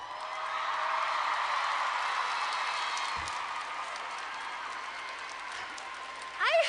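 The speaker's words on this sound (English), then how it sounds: "I bet you never ever thought in your entire life you would applaud for something like that" Audience applause in a live talk setting, a steady wash of clapping that holds for several seconds at moderate loudness and slowly tapers, with a brief voice rising at the very end.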